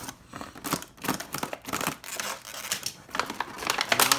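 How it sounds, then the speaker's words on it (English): Scissors snip through tape holding an action figure inside its plastic packaging, close crinkling and crackling of plastic around short cutting sounds, with no talk. "there's tape here holding it in. Right by the head. So you're going to want to cut that."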